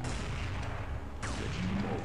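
A gunshot in the video game Counter-Strike 1.6, played on Slackware Linux, heard as a sharp crack with a brief tail, over constant game background noise.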